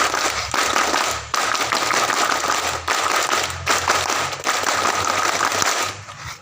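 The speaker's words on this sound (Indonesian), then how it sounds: "2 kali tepuk pramuka." A group of scouts at a joint Pramuka training session in Bangka Tengah perform the rhythmic Pramuka clap chant twice: loud, crisp unison clapping in patterned bursts separated by brief pauses, close and filling the space.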